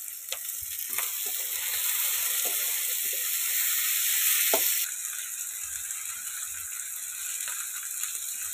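Capsicum, tomato and garlic paste sizzling loudly in a pan for a Bengali soybean and potato curry, with steady frying hiss and intermittent scraping, rattling strokes of the spatula stirring.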